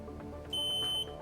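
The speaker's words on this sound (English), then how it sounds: "The others can go for a buzzer." A steady electronic buzzer tone sounds for about half a second on a televised Sri Lankan quiz show, clear over a low background hum.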